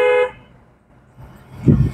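A brief, loud car horn blast at the start, then quiet road rumble building as a vehicle moves.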